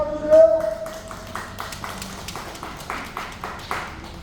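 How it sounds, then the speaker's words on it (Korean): A crowd at a Busan car-parade launch rally claps in a steady rhythm, with moderately loud, evenly spaced claps after a brief tone at the start. "다같이 박수 한번 주세요."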